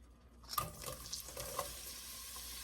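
Sliced onions hit hot oil and start sizzling, a steady bright crackle with a few louder pops and stirring clinks, close by.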